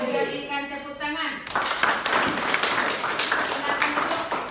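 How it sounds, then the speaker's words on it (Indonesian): A classroom of students claps their hands after a group presentation, a dense burst of applause that follows a teacher's voice and carries on at a steady level. "Berikan tepuk tangan."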